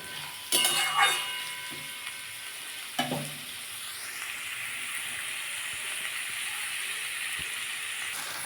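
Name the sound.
cucumber mash frying and stirred in a pan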